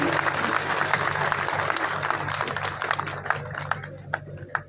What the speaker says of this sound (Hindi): आपकी तालियां जरा जोरदार होनी चाहिए।